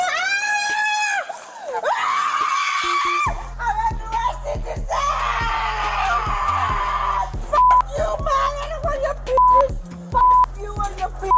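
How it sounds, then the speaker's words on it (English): A woman screams loudly and at length while being arrested by police officers, her raw cry rising over a steady rhythmic background. "scream at the top of her lungs"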